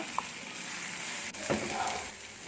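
Ginger and green chillies sizzle in a hot pan while being stirred, a steady frying hiss with one brief scrape of the spoon midway.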